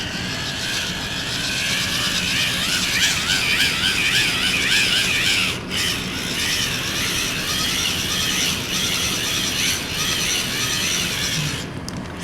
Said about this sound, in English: We're going to be rotating the hand crank generator